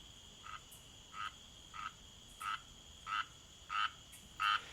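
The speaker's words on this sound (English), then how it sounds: "In the middle of the pond, a frog sat, practicing his singing." A frog at a pond croaks in a steady series of seven short calls, roughly evenly spaced and growing slightly louder, alone over a quiet background.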